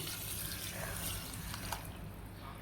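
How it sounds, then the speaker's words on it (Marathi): Water poured from a small container onto sugar for syrup makes a soft, continuous wash of liquid running and trickling at moderate distance, steady throughout with no speech. "याच डब्याने पाणी पण घेणार आहे। जेवढी साखर तेवढंच पाणी।"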